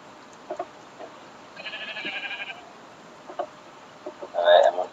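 Minecraft sheep bleat in a blocky game world: one wavering bleat in the middle, then another near the end, standing out over a quiet background.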